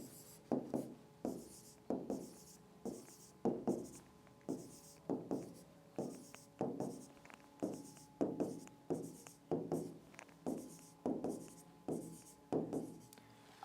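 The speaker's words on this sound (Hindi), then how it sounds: "वो मैं लिख लेता हूं।" Pen or marker writing numbers during a maths lesson, a close, faint series of short scratchy strokes in a regular rhythm, repeating roughly every half second to second throughout.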